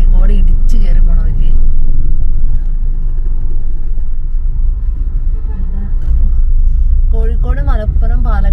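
Heavy traffic rumbles steadily from inside a car on the Kozhikode–Palakkad highway, where roadwork leaves one lane open and a private bus forces its way through, with people talking over the engine noise.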